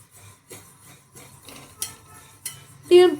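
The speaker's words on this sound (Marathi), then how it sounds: "त्याला तीळ पण भाजून घ्यायचे आहेत" Sesame seeds dry roasting in a pan without oil while they are stirred, giving soft scraping and rustling with light metallic clinks of utensil on pan, close and intermittent, louder toward the end.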